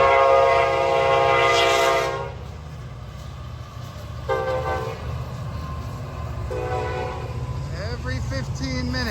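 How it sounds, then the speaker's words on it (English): A train horn sounds in long tonal blasts over a steady rumble of rolling cars, with a brief voice near the end. "Every 15 minutes, the train goes by."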